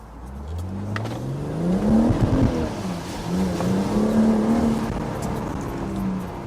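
BMW M140i accelerating hard with wheelspin, a steady rising engine drone that swells and dips over several seconds, close and fairly loud with no talk.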